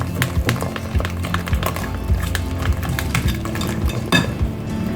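Oven-baked pancake batter is stirred in a bowl, the utensil clinking against the sides in a quick, steady rhythm of close, bright taps, with no talking.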